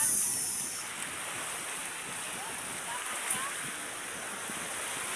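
Sea waves wash steadily onto the shore at Tondaligan Beach, a continuous broad surf roar at moderate distance with a faint high whine over it and no talking.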